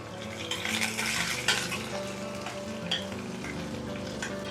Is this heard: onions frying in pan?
yes